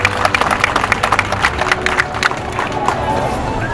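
An audience claps together at a Mother's Day celebration in M'Bengue, a dense patter of hands that fades slightly toward the end, with faint crowd murmur beneath.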